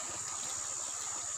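River water flowing steadily over rocks, a continuous broadband rush with no pauses, close and moderately loud, no voices.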